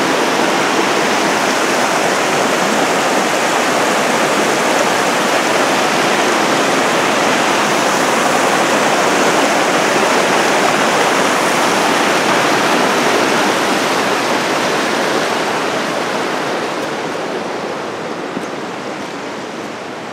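Talapus Creek in the Alpine Lakes Wilderness rushing beneath a trail bridge, a loud, continuous broadband roar of fast water that eases slightly toward the end, with no voices.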